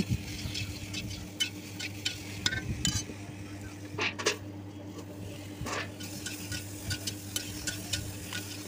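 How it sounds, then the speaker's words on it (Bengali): Vegetables (ridge gourd and potato) stir-frying in oil in a wok with salt and turmeric, a steady sizzle under repeated scraping and stirring strokes with occasional utensil clinks, close and moderately loud. "নুন এবং হলুদ দিয়ে সবজিগুলো ভালো করে ভেজে নেব"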